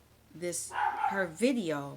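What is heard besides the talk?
dog barking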